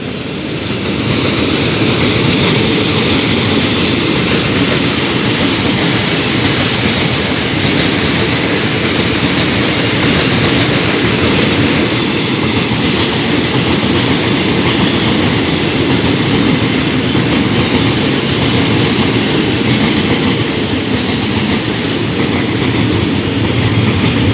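A freight train hauled by a Hitachi locomotive, carrying crude oil, passes a small Thai railway halt, a loud continuous rumble of rolling wagons with rhythmic clickety-clack and faint wheel squeal, sustained close-by throughout.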